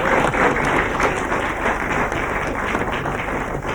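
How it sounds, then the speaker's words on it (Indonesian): Audience on an Indonesian TV comedy show applauds loudly and continuously, a dense, even clapping that runs the whole length. "kita berikan tepuk tangan yang meriah sekali lagi untuk kedua pasangan ini"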